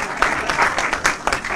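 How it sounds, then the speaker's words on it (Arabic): A small audience claps for a child, a steady patter of applause close by with a few louder hand claps, and a faint hint of voices underneath. "صفقوا عليها صفقوا عليها صفقوا"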